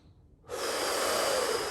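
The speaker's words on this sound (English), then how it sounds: "Slow nasal inhales, even though it's intense" Slow nasal inhale during a contralateral bridge floor exercise, a close, steady airy rush through the nose that begins after a short pause and holds evenly for over a second.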